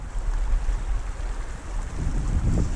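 Wind gusts across the microphone beside a meadow river while fly fishing for cutthroat trout in northern Utah, a constant low rumbling buffet with a stronger surge near the end, no voices.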